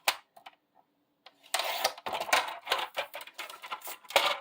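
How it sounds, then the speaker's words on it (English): Designer series paper gets cut on a trimmer, a few faint ticks giving way to a close scraping, rasping slide with several bursts and a final sharp snip. "Let me cut that at 3/4."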